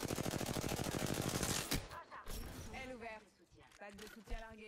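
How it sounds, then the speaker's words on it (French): Automatic gunfire in the Apex Legends video game rattles in one fast, steady stream of shots and then cuts off. Spoken voice lines follow, with a few faint mechanical clicks, all fairly quiet. "On me tire dessus."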